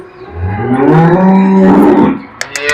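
A cow from Rajasthan offered for sale lets out a single long, loud, close moo lasting nearly two seconds, followed by a few faint clicks and knocks.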